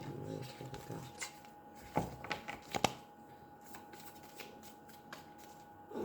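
Playing cards are shuffled close up during a French tarot-style reading, crisp riffles and sharp snaps in irregular bursts with quiet room tone between them.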